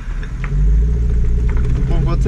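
A deep, loud car engine rumble close by, steady and throaty, with a person's voice briefly audible over it.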